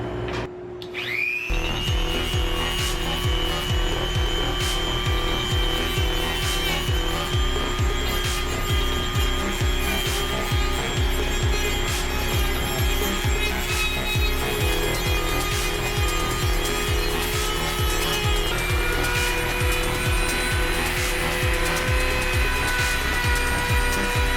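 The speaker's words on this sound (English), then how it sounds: "So I'm going to do that with my Dremel." A Dremel rotary tool cutting out a shape for a homemade play button gives a loud, continuous high-pitched whine with a rough grinding texture, starting abruptly after a brief quiet moment and running steadily without pause.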